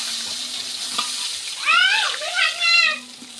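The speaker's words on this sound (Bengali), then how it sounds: "পাঙ্গাস মাছ খুব ফোটে।" Pangas fish pieces fry and spatter in hot oil with a continuous close hissing sizzle, while a voice speaks briefly over it midway.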